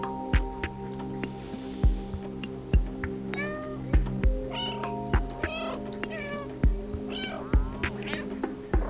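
Cat meowing in the video game Stray, several short rising meows over a steady game hum, with soft rhythmic footstep-like thumps recurring throughout, close and clear with no talk.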